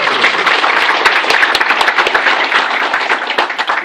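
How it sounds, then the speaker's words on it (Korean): Applause from an audience at a community assembly hall gathering, loud and continuous, with distinct individual claps standing out through the dense clapping. "또 다시 한번 박수 부탁드립니다"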